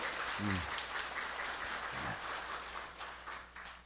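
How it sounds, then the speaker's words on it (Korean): A church congregation applauds in welcome, a steady, moderately distant wash of clapping that fades slightly toward the end, with a couple of brief voices underneath. "우리 뜨거운 박수로 환영하겠습니다."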